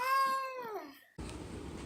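A house cat gives one drawn-out, falling meow up close, followed by a burst of broadband noise.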